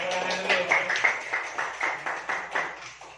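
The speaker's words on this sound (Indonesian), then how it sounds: "Tepuk tangan dulu." Classroom clapping during a school lesson, a short run of even, rhythmic claps from a small group, about a dozen beats in steady succession, close and moderately loud.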